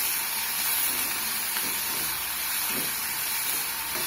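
Pirandai (adamant creeper) sautés in a pan with salt, producing a continuous close hiss that stays even throughout, with no talking.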